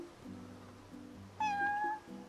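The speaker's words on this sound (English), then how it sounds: "A cat!" A cat meows once in Final Fantasy XV, a clear, mid-length tonal cry that rises above quiet game background music.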